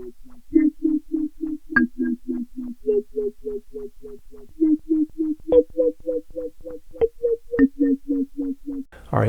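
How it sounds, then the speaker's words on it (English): Kalimba run through a Dwarfcraft Devices Happiness time-dependent filter pedal, giving a rhythmic stream of short plucked notes in a repeating melodic pattern, each tone filtered and wobbling, with occasional sharper accents near the end. "this first demo is the kalimba being sent through a time-dependent filter. It's the Dwarfcraft Devices happiness pedal"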